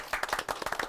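A short burst of rhythmic hand clapping from a group at a Korean career mentoring session, about eight crisp, evenly spaced claps heard close and alone.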